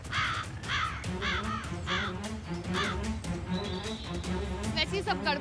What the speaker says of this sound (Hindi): थैंक यू कौवे जी।